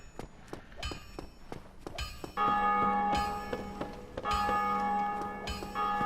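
A church-style bell in Dark Souls Remastered rings out twice with loud, sustained metallic tones, after a run of light footstep-like taps.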